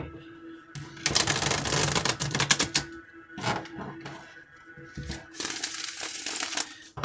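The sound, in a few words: shuffling tarot cards by hand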